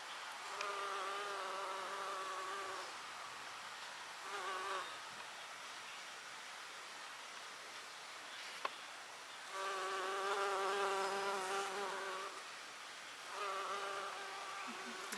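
Bees buzz around flowers in bursts, a steady droning hum that swells and fades several times as insects fly close, then drift away.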